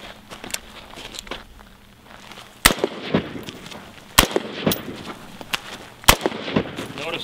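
Four sharp, loud handgun shots crack at irregular intervals as the shooter walks forward toward a target, with shuffling footsteps and faint outdoor ambience between them.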